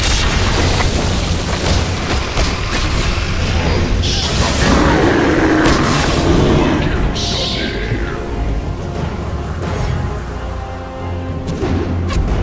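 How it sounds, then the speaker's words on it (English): Tower under attack in a Dota 2 match: a steady barrage of booming, crashing impacts and bursts fills the clip, loud and dense throughout, with a muffled voice faintly underneath. "Middle tower is under attack."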